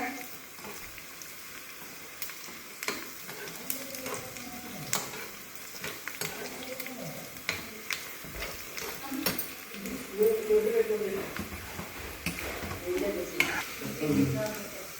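Onions frying for a tempering, giving a steady close sizzle with intermittent stirring scrapes against the pan, and a voice talking over it at times.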